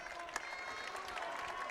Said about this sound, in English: Huge round of applause from multiple starters there for Southern Valley.